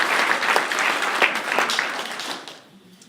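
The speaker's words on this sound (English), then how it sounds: "Yeah, that deserves a round of applause." Audience applause at a community watershed event, a dense spread of clapping that holds steady for a couple of seconds and then fades away near the end.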